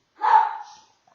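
A dog gives a single short, sharp bark, close and loud, followed by silence.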